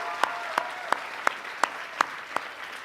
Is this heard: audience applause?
yes